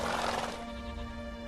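Roach the horse whinnies in The Witcher 3: Wild Hunt, a single loud, close neigh with a sustained tonal tail that fades over about a second, no speech.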